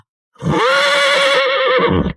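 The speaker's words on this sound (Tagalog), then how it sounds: "narinig ko ang isang malakas na bahihing ng kabayo" A single loud horse neigh rings out close by, a long wavering whinny lasting nearly two seconds before cutting off.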